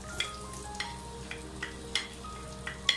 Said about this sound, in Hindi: और प्याज ऐड कर देंगे जो कि मैंने स्लाइस एक प्याज में ले ली है